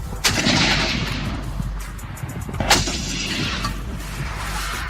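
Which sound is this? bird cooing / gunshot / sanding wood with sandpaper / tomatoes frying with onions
gunshot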